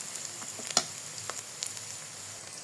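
Spices for poha fry lightly in a pan with a soft, steady sizzle, broken by scattered crackles and a few sharp clinks from stirring, close by with no voices.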